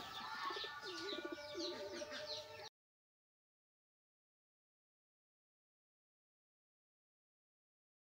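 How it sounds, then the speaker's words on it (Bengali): Male pigeons fight and coo in a pigeon loft. Throaty cooing and flapping scuffles sound close by for about three seconds, then break off into silence. "তো এইখানে নর কবুতরের মধ্যে মারামারি চলছে।"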